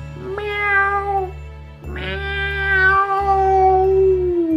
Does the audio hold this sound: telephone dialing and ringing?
no